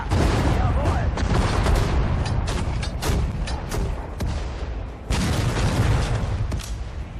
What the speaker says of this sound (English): We're just gonna shell whatever's there.